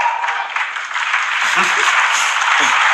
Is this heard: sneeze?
no